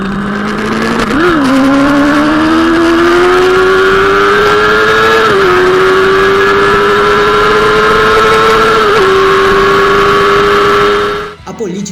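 A Honda CB600F Hornet motorcycle engine holds high revs in a loud, sustained roar, its pitch dipping and climbing briefly a few times before cutting off near the end.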